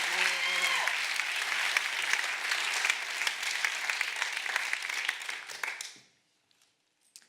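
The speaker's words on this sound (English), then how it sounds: "Let's give her a very loud, warm round of applause and welcome to the stage" A large forum audience gives a loud, warm round of applause welcoming a speaker to the stage, with a whoop rising above the dense clapping at the start before the applause fades out into silence.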